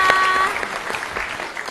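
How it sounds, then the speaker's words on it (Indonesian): Pupils of SDIT Ahmad Dahlan, an Islamic primary school in Kota Jambi, clap together in a television studio during a children's show, a dense, steady burst of applause with a brief tone at the start. "tepuk tangannya mana?"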